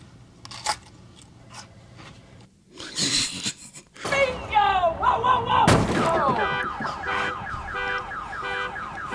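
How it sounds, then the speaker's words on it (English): A loud electronic car alarm in a scene from The Office wails with warbling, cycling tones, mixed with bangs and clicks, near and persistent. "the car alarm"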